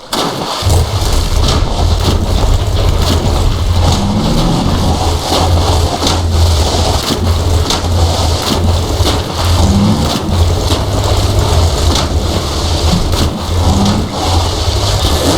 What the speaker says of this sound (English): Get the car and we'll challenge Doc to a race